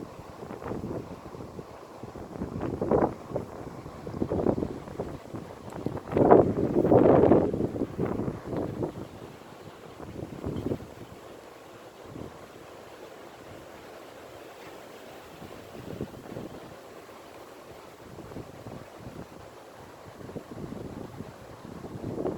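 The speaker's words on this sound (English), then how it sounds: "Some strong winds." Strong wind buffets the microphone outdoors, a loud rumbling roar that swells in gusts and then settles into a steadier rush, with no speech.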